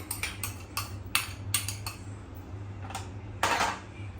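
Grated coconut and jaggery being mixed in a pan for a Gudi Padwa sweet filling, a series of sharp metallic scrapes and taps from a utensil against the pan, irregular and close, with quiet pauses between.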